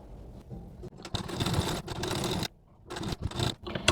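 Sewing machine stitching a folded blouse band, running in short bursts of rapid mechanical clatter with brief pauses between them, close and clear.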